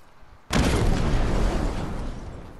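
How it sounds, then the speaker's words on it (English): Explosion of a fire object in an online squad shooter: a sudden loud blast with a sharp onset, then a dense roaring rumble that slowly fades. "Watch out, I accidentally blew up the fire thing."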